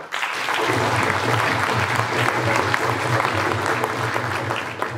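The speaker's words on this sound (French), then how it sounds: "Je vous demande de l'applaudir." An audience at a Brussels commemoration applauds a human rights activist in a long, even round of clapping, with a low steady hum running beneath the crowd noise.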